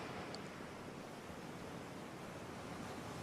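Ocean waves wash continuously onto the shore, a soft, even broadband rush with no distinct breaks, at a low and steady level.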